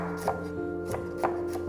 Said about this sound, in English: 1 carrot finely diced.